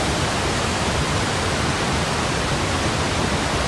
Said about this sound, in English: that's one of the beautiful creeks around